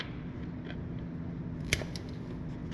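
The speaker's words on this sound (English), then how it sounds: "But we're going to cut the tip of this off." Wire strippers snip through the plastic tip of a new motorcycle battery's output port with a single sharp click against a steady low room hum.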